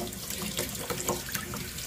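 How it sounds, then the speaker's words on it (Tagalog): Sambong leaves rinsed under a running tap at a sink, a steady close splashing flow of water with small shifts as the leaves are moved, no talking. "hugasan natin ang ating kinuhang sambong"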